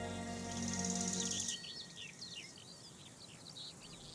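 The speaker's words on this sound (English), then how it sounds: "In the sun-soaked dry meadows, this is now the time for crickets and grasshoppers." Crickets and grasshoppers chirp in a sun-soaked dry meadow in the Rhine Gorge, with a sustained high trill at first that gives way to scattered short chirps over quiet background hiss.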